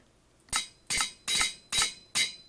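Repairing a damaged car inside a garage in a video game, five sharp, evenly spaced hammer-like metallic bangs in quick succession, close and clear with no talking.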